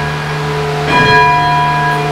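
A large tower bell at the Hingham Memorial Bell Tower strikes once, loud and close, its bright ringing partials swelling and then sustaining with a long humming decay.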